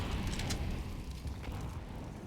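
HE grenades exploding in a CS:GO match on the Inferno map, heard as a muffled, rumbling boom with low-end roar that fades slightly, without talk over it.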